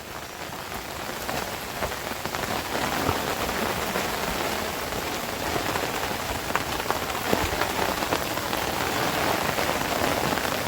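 Heavy rain pours onto a mountain trek trail on the Nageshwar route in Ratnagiri, a dense, steady hiss of drops striking the ground and foliage, loud and close, with no speech.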